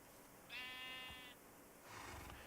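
A single sheep in Minecraft lets out one drawn-out, wavering bleat, faint against a steady background hiss, with no voices.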